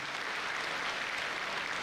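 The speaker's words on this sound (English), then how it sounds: "Please, let's clap for them" An audience at a live comedy show claps together in a dense, even wash of applause, sustained and fairly loud for the whole short moment with no speech over it.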